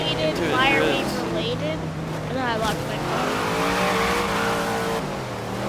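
Car wall riding in Forza Horizon with the Hot Wheels expansion, engine revving and whining through rising and falling pitch sweeps, while a person talks and exclaims over it.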